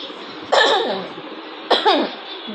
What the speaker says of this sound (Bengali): আমার ঠান্ডা লেগে গেছে কাশি আসে শুনে